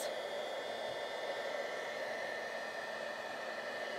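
A heat tool blows hot air to melt embossing powder on a handbag-shaped craft gift box, producing a constant, soft, breathy hiss like a small hair dryer, steady and unbroken with no voices.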